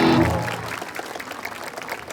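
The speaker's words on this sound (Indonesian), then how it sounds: "Sebelumnya tepuk tangan dong yang paling meriah buat Sabiporia 2023." Concert crowd at the Sabiphoria Fest 2023 in Makassar applauding, the clapping fading out after a loud opening burst with a brief tonal sound, continuing as a lighter scattered patter.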